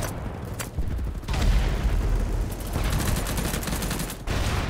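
Sustained automatic gunfire and booming blasts from a gun in the shooter game BattleBit Remastered, firing in dense bursts with brief pauses, loud and close throughout.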